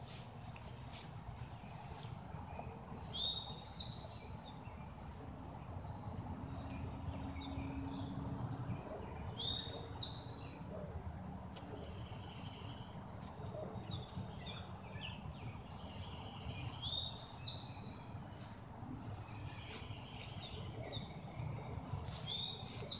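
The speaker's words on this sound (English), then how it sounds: "I wanted to show you, when I open the door, what goes on with the young birds" Young racing pigeons in a loft, heard as a continuous low rustle and murmur of many birds, with short chirps and squeaks rising every few seconds and no talking.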